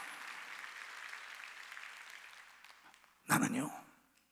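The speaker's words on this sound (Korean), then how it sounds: "박수로 하나님께 영광을 돌려야 된다요" A church congregation at a Sunday worship service breaks into a short, loud burst of applause after a stretch of quieter murmur, the clapping rising sharply and then fading.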